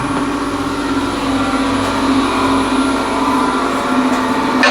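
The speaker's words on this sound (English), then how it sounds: "now I'll just use a scraper" A bowl scraper cuts wood on a spinning lathe while a container is turned, giving a steady loud whirring drone with a rough scraping hiss throughout and no voices.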